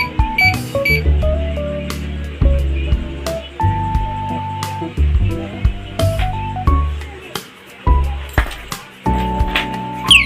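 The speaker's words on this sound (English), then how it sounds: "alarm lock for motorcycle" Motorcycle alarm lock sounding a run of sharp electronic beeps and warbling tones in short bursts, loud and close, with brief gaps between patterns.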